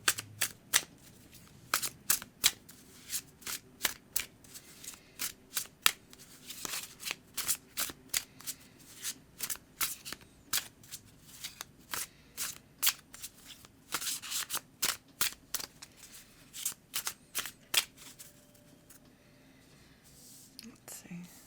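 An oracle card deck is shuffled over and over, crisp riffling bursts repeating in close succession, with soft whispered talk underneath.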